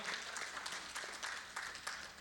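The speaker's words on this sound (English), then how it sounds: "A big round of applause to Mahindra for his wonderful contribution" A panel-discussion audience at a finance industry event gives a short burst of steady applause, moderate and slightly distant.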